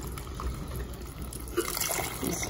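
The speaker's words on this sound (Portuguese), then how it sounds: "Aqui agora eu vou colocar água, minha água já tá quente, até cobrir." Hot water poured into a pan of cuscuz until the grain is covered, a steady close trickle and splash that grows brighter and fuller toward the end.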